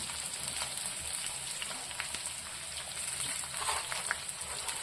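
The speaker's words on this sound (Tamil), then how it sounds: "இந்த வெங்காயத்தை நல்லா பொன்னிறமாக நல்லா வதக்கணுங்க" Chopped onions sautéing in a pan with oil, a soft, steady crackling sizzle with small pops, heard close but fairly quiet and alone.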